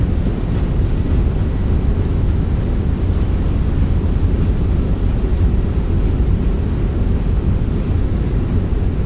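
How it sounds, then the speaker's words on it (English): Fenix A319 airliner in Microsoft Flight Simulator rolling out after landing with thrust reversers deployed, a steady loud broadband roar and rumble filling the whole stretch without pause. "Goes down gently, reversers are out."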